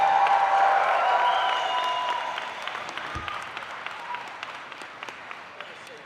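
A large crowd of graduates at a university convocation ceremony applauds, loud and dense at first, then gradually thinning out into scattered individual claps.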